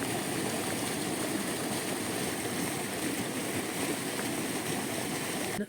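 Heavy rainwater rushing through a drainage canal over a metre deep, washing out soil and stones, a dense continuous roar of turbulent flow, steady and unbroken from start to finish.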